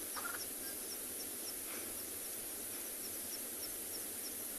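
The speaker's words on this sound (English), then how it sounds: "Nice couple of crested francolins calling around us at the moment." Crested francolins call in the evening African bush at Ngala, giving a couple of brief, faint calls over a constant high insect drone.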